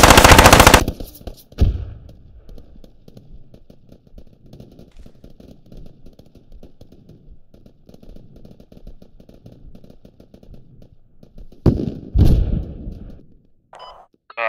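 Gunfire in the military shooter game Squad: a loud sharp opening burst, then long stretches of rapid automatic fire at mid distance, with more heavy close shots near the end.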